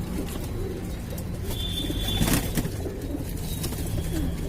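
A pigeon at a Lucknow home loft coos softly, low murmuring calls over a faint background hum, with brief fluttering and a little speech in the distance.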